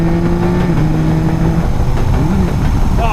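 A Yamaha Tracer 9 motorcycle engine on the road, loud and close, with a steady drone whose pitch dips and then rises as the bike drops from second into first gear. Wind rush runs underneath.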